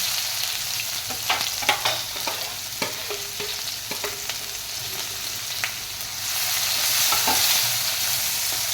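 Onion, asafoetida and curry leaves hit hot oil in a pan for a Kathiyawadi-style dhansak, giving a close, continuous sizzle broken by scraping stirs and clinks, then swelling louder near the end.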